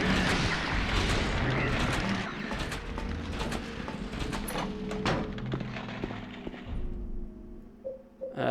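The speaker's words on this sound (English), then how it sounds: "Shotgun." Shotgun blasts go off in Silent Hill, several sharp booming shots spaced through a tense, noisy game scene, with a voice talking underneath and the din fading near the end.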